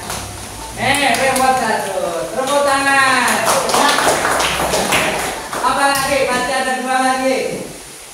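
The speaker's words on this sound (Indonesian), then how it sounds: "Tepuk tangan." Students in a classroom clap their hands in a brisk burst of applause, mixed with loud overlapping voices and chatter close by.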